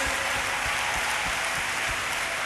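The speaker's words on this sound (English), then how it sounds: "He clap for Jesus again." Steady, dense applause from a large church crowd at a healing service, a continuous wash of clapping with a few stronger low thumps running through it.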